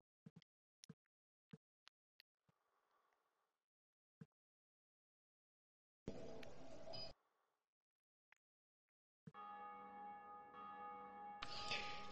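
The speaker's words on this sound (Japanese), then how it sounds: "ああ、誰か鐘鳴らしてんな。" Another player ringing a bell in Dark Souls Remastered: a few separate resonant chime bursts with long ringing tails, heard at a distance between sharp clicks and quiet stretches.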